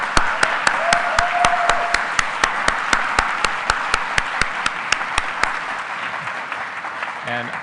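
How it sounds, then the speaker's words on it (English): An audience at an awards and town hall gathering applauds, a steady wash of many hands with sharp, evenly spaced claps standing out before it fades, while a voice speaks over it. "So let's give them a humongous round of applause."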